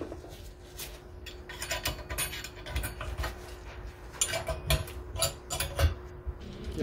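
A ratchet wrench tightens a bolt on a Kawasaki ZX130 motorcycle during a chassis, suspension and brake rebuild, its clicking pawl heard in irregular close bursts over a steady low hum.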